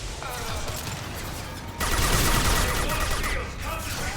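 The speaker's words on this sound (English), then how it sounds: "Firing an impact shot." An impact-shot weapon firing in the Mass Effect video game, loud, with continuous rattling bursts and a sharp jump in intensity midway that holds over dense combat noise.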